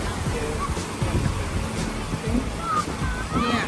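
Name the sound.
ocean waves washing onto a beach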